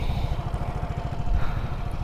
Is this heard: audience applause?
no